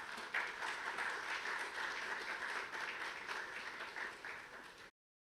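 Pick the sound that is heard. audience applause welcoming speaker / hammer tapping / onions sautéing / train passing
audience applause welcoming speaker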